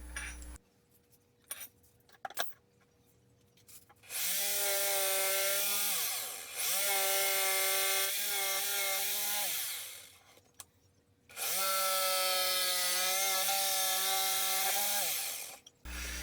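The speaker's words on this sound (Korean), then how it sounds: "이제 심압대 부분이 왔다 갔다 할 수 있도록 직소로 커팅을 해야겠죠" A jigsaw cuts through wood in two long, loud passes, each a sustained buzzing whine lasting several seconds, separated by a short pause and preceded by quiet handling noises.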